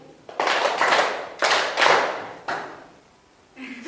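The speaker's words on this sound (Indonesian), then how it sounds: "tepuk 2, 2 kali." A classroom group clapping in unison, bursts of brisk hand claps arriving in pairs and spaced runs, loud and close, with a fainter clap trailing at the end.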